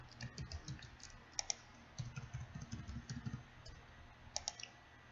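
A password is typed on a computer keyboard as quick, soft key clicks in short bursts with brief pauses between them, close and quiet with no talking.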